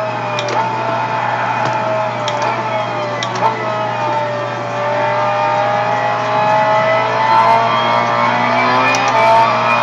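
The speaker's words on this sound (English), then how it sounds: "Oh look, rev limiter on," A Honda S2000 race car in Gran Turismo 5, running the Suzuka 1000km endurance race, holds a loud, steady high-rpm engine whine against the rev limiter with slight stuttering dips throughout.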